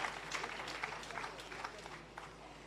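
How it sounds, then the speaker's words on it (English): Steady applause from the audience at the Jamaica Civil Service Long Service Awards 2023 ceremony, a dense, continuous wash of many hands clapping at a distance, fairly quiet and even throughout. "Give him a round of applause, please."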